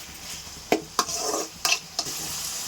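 Tomatoes frying with salt in a pan, a quick run of four sharp stirring scrapes over a continuous close sizzle.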